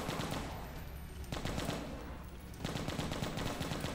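A machine gun firing in the zombie shooter Left to Survive, rattling off rapid continuous bursts with brief shifts in intensity, loud and close with no talking over it.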